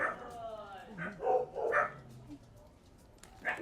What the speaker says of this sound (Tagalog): Nag-iingay ang mga aso.